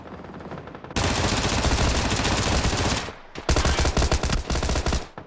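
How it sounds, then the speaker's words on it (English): Loud, close automatic gunfire in the console shooter PUBG, a sustained burst of rapid shots, a brief pause, then another rattling volley. "Oh my god, why are they shooting?"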